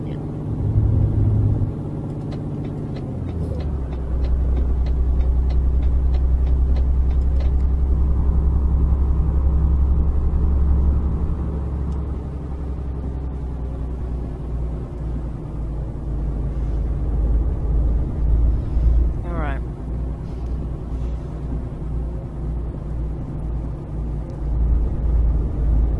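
A heavy truck engine in Euro Truck Simulator 2 after a downshift into tenth gear, a steady low rumble that drops in pitch and then holds a deep drone while someone talks over it.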